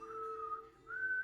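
A person whistles in imitation of Ellie's clumsy early whistling from The Last of Us, giving two short, wavering tones with a dip between them, faint and alone.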